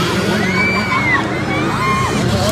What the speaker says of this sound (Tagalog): Sigawan yung mga tao.